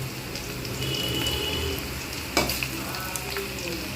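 Chicken pakora pieces fry in oil over medium heat, a dense close sizzle that runs steadily, broken by a sharp clatter and a few taps as the pieces are flipped.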